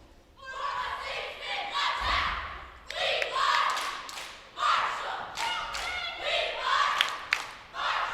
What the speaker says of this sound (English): A lot of energy, the crowd's getting involved.